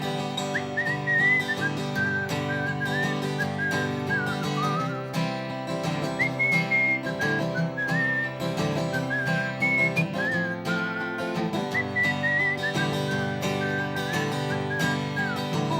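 A man whistles a wandering melody, clear and sustained in short phrases over a full backing of instrumental music, with no talking.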